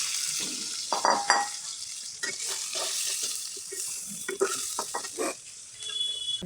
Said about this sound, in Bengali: এখন আমি পেঁয়াজ আর কাঁচামরিচ কুচি দিয়ে দিব।